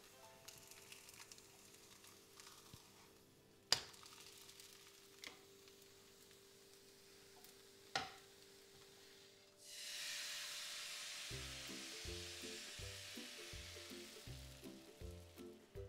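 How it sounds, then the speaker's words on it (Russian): Soft background music plays, then partway through a steady sizzle of thin eggless pancake batter frying in a pan starts and continues under the music. "Блинчик жарим с каждой стороны до румяного цвета."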